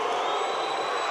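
Steady, loud wash of crowd noise and cheering from a packed arena during pressure free throws at a BAL 2023 basketball game in Kigali, a continuous roar with no distinct breaks.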